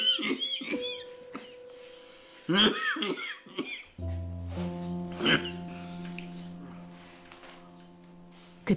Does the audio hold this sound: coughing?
yes